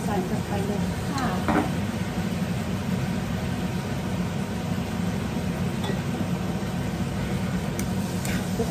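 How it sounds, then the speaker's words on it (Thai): Thai basil stir-fry with red curry paste and makrut lime leaves tossed in a pan, a steady close scraping and sizzling wash that runs throughout with brief spatula clinks. "คลุกเคล้าให้เข้ากันอีกทีนะ"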